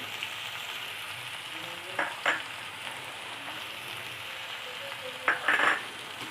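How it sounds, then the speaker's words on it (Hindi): Garlic and spices fry in a pan with a steady sizzle, for a capsicum paneer roll filling; a few brief scraping bursts from stirring rise above the hiss at a close distance. "अब इसमें हम बाकी की सारे मसाले मिक्स कर देंगे।"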